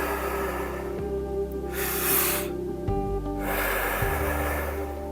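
Deep rhythmic breaths during a breathing exercise, long drawn inhales and exhales alternating closely and loudly over a low steady hum, no talking.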